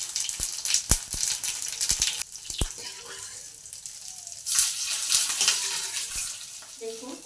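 Cumin seeds crackling in hot oil in a pan: sharp pops and bursts of sizzle, with a few loud clicks early and a stronger frying rush from midway, close and alone.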